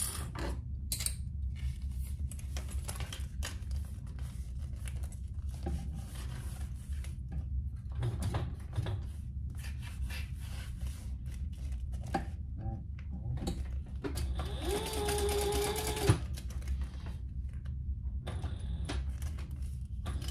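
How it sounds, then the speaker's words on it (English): A sewing machine top stitches a fabric toiletry bag, giving soft mechanical ticking and creaking with faint whirring bursts, quiet and close, with a brief louder whine around the middle-late stretch. "then I'll turn it over in top stitch, just like I did the other side"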